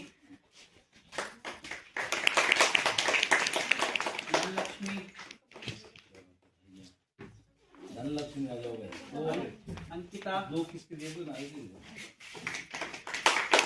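Several people clap their hands in loose, scattered bursts, close by and moderately loud, with a voice calling out names between and over the claps.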